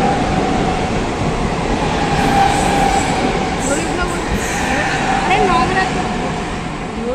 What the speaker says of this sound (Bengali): উফ, অনেক কষ্টে ট্রেন এসেছে।